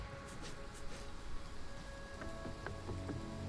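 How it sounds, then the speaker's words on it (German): Wind and rain lash a scene in the video game Ori and the Will of the Wisps, a steady soft hiss of rainfall with faint wind, quiet and continuous, dotted with a few light chiming tones toward the end. "Und der Wind und der Regen, die dann peitschen."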